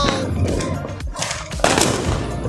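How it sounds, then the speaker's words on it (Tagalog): New Year fireworks explode in light rain, a close, loud barrage of sharp cracks and pops in rapid, overlapping bursts with no clear pauses. "Fireworks galore, pero maambon."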